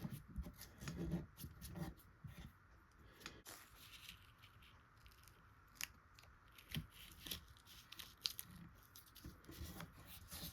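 Masking tape being pulled and pressed into the neck pocket of a Jaguar guitar body, close crinkly tearing and rubbing sounds in short irregular bursts, with no talk.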